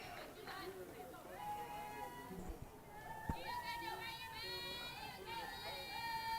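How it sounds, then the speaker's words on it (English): Crowd at a Durant versus Broken Bow high school softball game: a steady murmur of voices and scattered calls from the stands at moderate distance, with one sharp knock near the middle. "Crowd has picked up a little bit."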